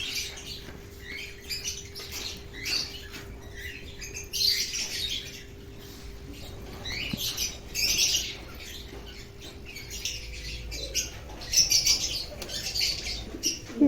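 Birds in a new enclosure flap their wings in bursts every few seconds, with scattered squawks and chirps between the flurries, fairly close against a quiet background with no talking.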